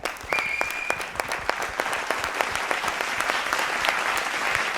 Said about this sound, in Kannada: ಬರಲಿ ಜೋರ್ ಚಪ್ಪಾಳೆ ಅವ್ರಿಗೆ